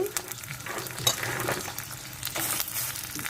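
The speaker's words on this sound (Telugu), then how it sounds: "బఠానీ కూడా వేసేసుకుందామండి ఉల్లిపాయతో పాటు మగ్గుతాయి" Peas and onions with curry leaves frying in a pan for a brinjal and green pea curry, giving a steady close sizzle with light stirring scrapes throughout, no talk.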